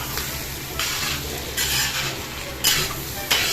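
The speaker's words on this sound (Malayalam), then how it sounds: "നന്നായിട്ടൊന്ന് മിക്സ് ചെയ്ത് കൊടുക്കാം." Beef kondattam with tomato sauce is stirred in a pan, with repeated scraping strokes of a utensil against the pan over a low, steady sizzle.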